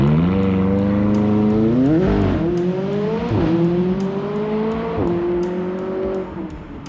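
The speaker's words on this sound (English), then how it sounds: "Fire it up to hear the unique tone of the McLaren Titanium Sport exhaust system." A McLaren 570S Spider with the Titanium Sport exhaust revs up in several rising bursts, its raspy exhaust note climbing, dropping back between blips, then settling to a smooth idle.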